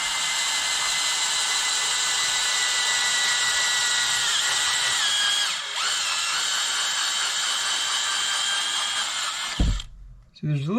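A power drill whines steadily at high pitch for several seconds, boring into the plastic of an Echo Speed Feed 500 up close, its tone dipping briefly before it cuts off.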